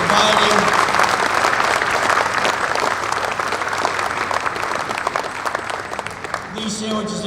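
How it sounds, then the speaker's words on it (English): An audience applauds at an Honor Flight reunion event, with dense, sustained clapping that fades slightly before a voice comes back over a microphone at the end. "So I'd like you to give a round of applause for the Bristol"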